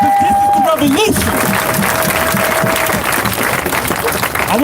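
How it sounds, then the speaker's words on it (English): Crowd applause and cheering at a protest rally against police brutality in Colorado, loud and sustained throughout, with a voice shouting over the clapping early on. "Give yourself a round of applause, y'all!"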